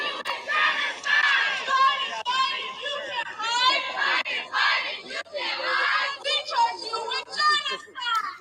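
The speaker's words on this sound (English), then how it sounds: "They're screaming, Biden, Biden, you can't hide. We charge you with genocide." Crowd of protesters outside a funeral attended by President Biden and the First Lady, voices screaming rhythmic chants in repeated shouted phrases, heard from a short distance with no gaps.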